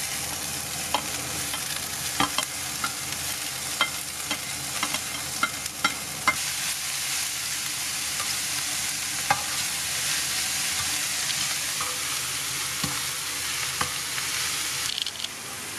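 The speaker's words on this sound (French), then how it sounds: "on va tout simplement prendre tout ça et tout balancer dans la poêle avec le reste" Potatoes, beans and mushrooms fry in a pan, a steady close sizzle running throughout with scattered scrapes and taps of stirring, no voices.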